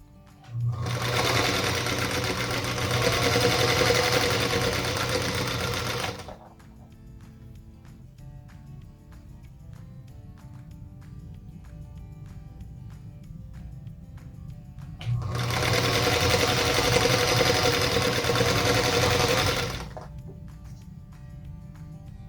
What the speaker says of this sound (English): So sew one side, and then I'm going to continue through my whole stack